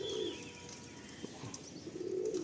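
A male Fulsira fancy pigeon coos in a loft, its low rolling calls swelling near the start and again at the end over steady background hum, with a few soft thuds and no talking.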